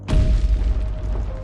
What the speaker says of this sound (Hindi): गांव में रहने वाले लोगों को एक जोरदार धमाके की आवाज सुनाई देती है।